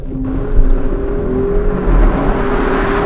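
Alfa Romeo Stelvio SUV engine accelerating hard, a steady loud engine drone with a rising tone over deep low rumble and road noise, continuous throughout with no voices.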